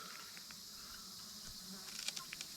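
Bees swarming in an opened beehive with comb built under the lid, a faint, steady insect hum with a few brief closer buzzes and small handling ticks near the end.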